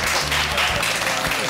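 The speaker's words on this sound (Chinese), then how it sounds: "站起来接受大家掌声一下。" Applause for the cook of the fried noodles at a community cooking event in Hsinchu: a short burst of steady group clapping filling the whole moment, close and fairly loud.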